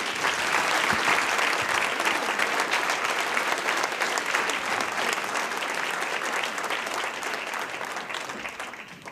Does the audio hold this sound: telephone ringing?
no